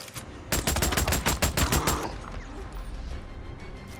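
Rapid burst of automatic fire from an M50 Reising submachine gun in the video game Days Gone, about ten loud, evenly spaced shots in close succession, then fading into quieter rumbling ambience.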